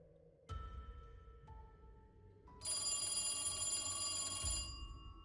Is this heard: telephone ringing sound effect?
yes